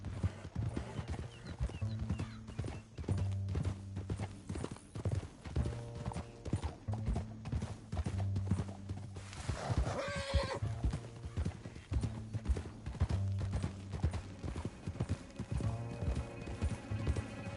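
Horses' hooves clip-clop in a steady rhythm throughout in the video game Red Dead Redemption 2, with a horse whinnying midway, at moderate volume under faint background sounds.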